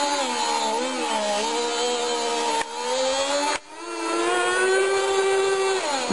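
FSR 6.5cc nitro engine, untuned, running at a high buzzing whine, loud and close, with two brief throttle dips before it revs back up to a steady scream.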